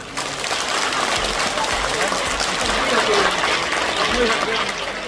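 Applause at a wedding for the bride and groom, a dense, steady patter of many hands clapping that swells slightly midway and continues throughout.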